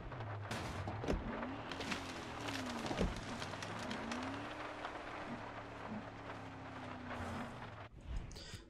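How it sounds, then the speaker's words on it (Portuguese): Steady rain hisses in the Far Cry 6 video game, mixed with a rising and falling vehicle engine drone and a few sharp thuds. The sound is continuous and fairly close. "Tá chovendo? Ah, maneiro, hein?"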